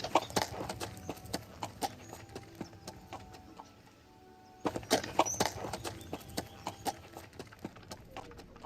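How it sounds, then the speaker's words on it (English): Steady clip-clop of horse hooves at a riding pace in a video game forest, near and fairly loud, with a brief lull midway before the rhythmic hoofbeats resume. "The ambiance really makes me feel like I'm riding a horse."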